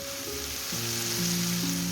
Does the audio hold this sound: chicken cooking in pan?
yes